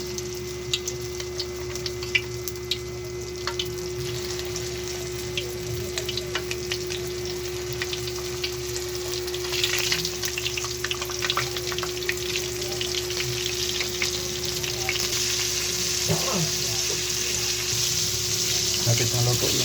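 Steady crackling sizzle of flour-coated chicken heads frying in hot oil, continuous and close, with occasional clinks and a faint hum underneath.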